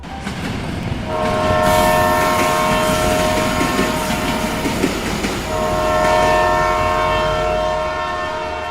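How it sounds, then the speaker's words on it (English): A train passes close by, its loud rumbling clatter continuing throughout while a sustained multi-tone horn blares twice, once early and again past the middle. "Hold for train, everybody."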